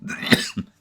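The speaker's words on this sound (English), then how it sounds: "just like me, hacks and coughs." A single short, harsh cough, close and loud, with a brief throat-clearing rasp trailing after it before silence.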